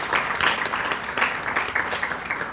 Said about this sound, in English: Please give Lisa a round of applause for all of her work.